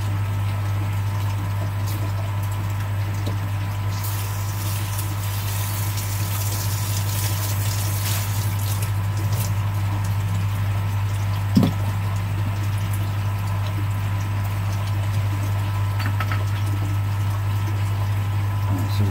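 Steady stream of running tap water sluicing out containers, a continuous even wash with a constant low hum beneath it.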